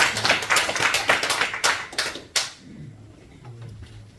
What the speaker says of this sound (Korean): 우리 하나님께 박수로 영광 올려드리겠습니다.